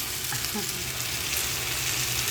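Taro stalks (takway) being sautéed in a pan give off a steady, close sizzle of frying that runs unbroken throughout, with faint stirring movements underneath.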